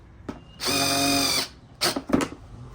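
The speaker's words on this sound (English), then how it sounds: "So the drill, you already know the drill." A power drill drills into plastic car trim while an ambient light kit goes into a Mazda CX-5 cabin. One sustained, loud, whining burst lasts under a second, followed by two shorter, choppier bursts of the drill.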